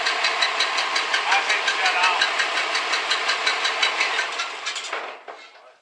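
A diesel engine runs at about 2500 RPM with no muffler, a loud, rapid, even knocking clatter that holds steady before cutting off and fading near the end.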